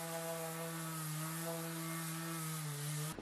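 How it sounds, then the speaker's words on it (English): An orbital sander with 80 grit paper sands a wooden dining table with the grain, droning steadily with a constant motor hum and gritty buzz, continuous and close, then cuts off abruptly at the end. "So I'm going to sand this way."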